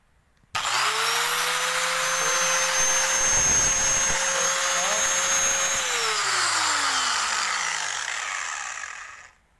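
An angle grinder switches on with a sudden whine, spinning up to a steady, loud high-pitched hum that holds for several seconds before winding down and fading out after being switched off.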